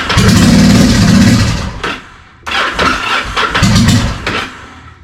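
A Yamaha V-Star 1100 motorcycle engine that will not idle runs loud and close, revving hard before dropping off and nearly stalling, then catching and revving again before sputtering down.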